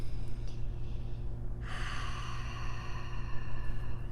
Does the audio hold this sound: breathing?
yes